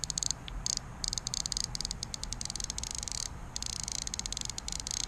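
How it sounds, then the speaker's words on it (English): Rapid high-pitched clicking from a KastKing Sharky III fishing reel's bait feeder, a steady ratcheting buzz in short bursts with brief pauses, close up and fairly loud. "The bait feeder function is loud, and I think that's really cool."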